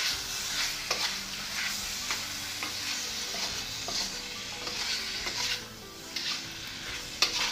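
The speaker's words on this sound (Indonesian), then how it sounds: "Kemudian tambahkan saus tiram juga secukupnya ya teman-teman, lalu diaduk rata" Cauliflower tossed with seasoning, pepper and oyster sauce in a hot pan, a steady close sizzle broken by repeated scraping strokes of the spatula and a few sharp clacks.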